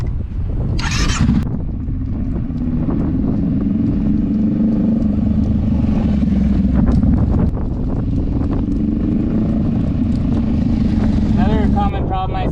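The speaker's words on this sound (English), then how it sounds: "here's a quick look at what that sounds and looks like if you're decelerating in the swerve" A motorcycle engine hums steadily while decelerating through a swerve, mixed with heavy wind noise across the microphone and a person talking over it.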